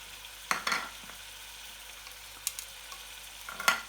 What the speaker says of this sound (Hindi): अब इसे हमने पूरा घुमा लेना है ताकि सारे मसाले चिकन और आलू में चिपक जाए